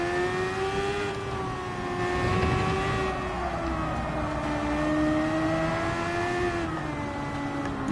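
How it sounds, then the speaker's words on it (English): A Mazda 787B race car in Gran Turismo 7 with its rotary engine droning in a loud, sustained, buzzing whine that rises and falls slightly in pitch as the car holds speed, with no talk. "You've got to love the sound of this car, haven't you? The Mazda 787B sounds like nothing else."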